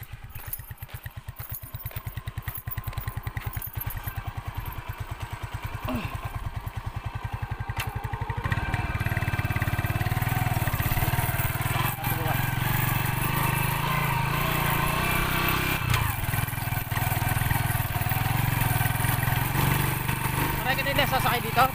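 Habal-habal motorcycle taxi engine while riding on a rural road toward a river in Bulacan, Philippines, a steady loud engine drone that swells after a quieter start, with voices talking over it.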